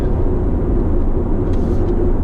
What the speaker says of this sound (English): whenever you put the foot down, you can hear the rumble first